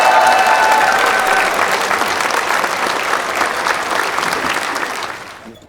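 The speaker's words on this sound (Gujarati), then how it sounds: "જોરદાર તાળીઓ થઈ જાય શાહબુદ્દીન રાઠોડ માટે." Loud, sustained applause from a studio audience at a Gujarati comedy show for guest Shahabuddin Rathod, dense clapping that gradually thins and fades out at the end.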